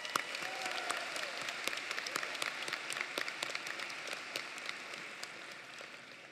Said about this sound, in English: Give yourselves a huge round of applause.